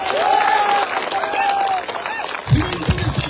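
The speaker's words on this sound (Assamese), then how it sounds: "যদি লাগিব আকৌ এবাৰ হাত তালি।" Crowd applause at a political rally protesting price rises, a broad wash of clapping and crowd noise with a rising cheer partway through, under amplified voices.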